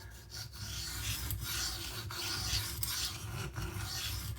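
A Spyderco Para 3 knife blade sliding back and forth across a sharpening stone in steady, repeated raspy strokes, close and fairly quiet, with no voice.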